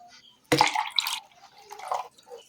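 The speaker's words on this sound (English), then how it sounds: "To this I will add another 250 ml of clean water" Water splashes and trickles briefly into a measuring cup, starting with a sudden pour and tapering into a few smaller drips.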